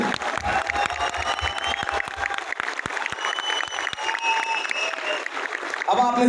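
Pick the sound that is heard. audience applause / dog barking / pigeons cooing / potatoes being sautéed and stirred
audience applause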